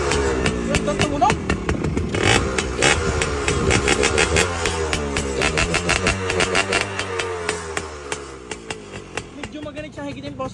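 A Pugeng RS100 motorcycle engine revs hard and close, its throttle blips rising and falling over a steady mid-pitched idle, with people talking nearby throughout.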